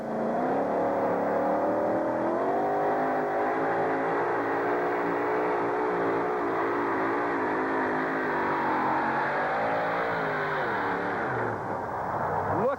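Irish Challenger two-wheel-drive monster truck pulling a sled in an Anaheim stadium, engine roaring loud and steady with wavering revs throughout, dipping briefly near the end.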